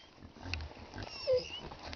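Pigs grunting and snuffling close by, a few low oinks rising over a faint background hum.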